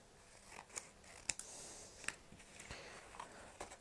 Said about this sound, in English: I'm going to trim that a little bit more